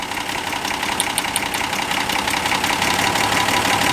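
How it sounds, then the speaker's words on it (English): A classic car engine idles steadily and loudly, its rhythm sagging slightly while a cylinder wire is grounded with a test light, then recovering, with a faint high ticking in the first seconds. "you hear the motor slow down"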